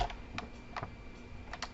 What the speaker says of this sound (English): in here, I'm going to type in my name.